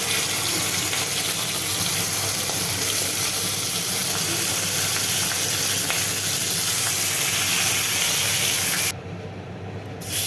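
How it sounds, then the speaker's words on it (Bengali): Snakehead fish pieces frying in hot oil in an iron wok: a loud, continuous dense sizzle close by, easing slightly near the end, with no talk. "এই টুকরোগুলো এক এক করে ছেড়ে দেবো মাছ ভাজার জন্য।"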